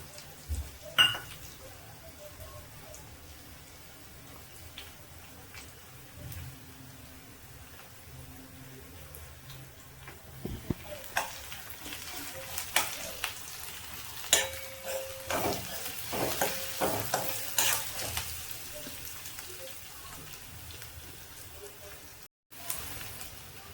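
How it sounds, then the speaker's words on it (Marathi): Peanuts fry in oil in a pan, with a steady low sizzle, occasional clinks of a utensil and a run of stirring scrapes in the second half, all fairly close. "त्याला आता मस्त शेंगदाण्याला फ्राय करू आपण"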